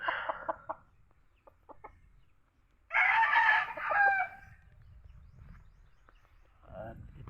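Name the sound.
young rooster (stag) crowing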